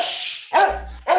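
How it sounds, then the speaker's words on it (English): Dogs barking loudly and close in a few sharp, tonal barks separated by short gaps, with a low hum underneath. "the dogs"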